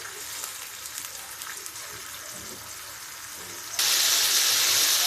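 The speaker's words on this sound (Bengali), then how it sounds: "এটা এখন এই মশলাটাকে একটু কষিয়ে নিচ্ছি" Spice masala for a papaya bhaji sautés in a pan with a continuous close hiss that turns noticeably louder and brighter near the end.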